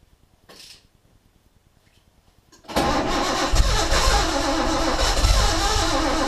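A car engine cranks weakly with a faint ticking starter for a couple of seconds, then catches and roars into a loud, rough, steady run close by.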